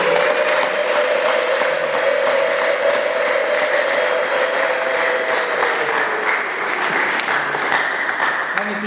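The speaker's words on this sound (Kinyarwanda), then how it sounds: "Twongere tuyikomere amashyi." A church congregation applauds during a Sunday service, with loud, steady clapping from many hands that carries on unbroken for about nine seconds.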